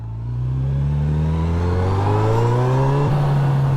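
A Honda CB1000R Black Edition motorcycle engine revs up steadily, its pitch climbing as it accelerates, loud and close, with a brief gear change near the end.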